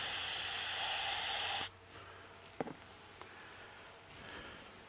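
Aerosol carb cleaner and fuel injection cleaner spray into plastic PVC cups, a loud continuous hiss lasting under two seconds that cuts off abruptly, followed by a few faint clicks and handling sounds.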